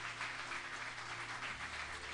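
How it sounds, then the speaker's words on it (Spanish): Congregation clapping during a Spanish-language church service, a continuous, moderately quiet patter with a low hum underneath. "¿Cuántos le dan un aplauso al Señor por su palabra?"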